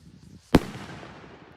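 A New Year's Eve firework, a Seven Heaven 6.5 mm calibre shot, launches high into the sky with one sharp, loud bang that fades into a long crackling tail, while a faint voice mutters just before it.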